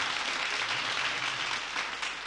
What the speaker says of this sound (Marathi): जोरदार टाळ्या गौरीसाठी।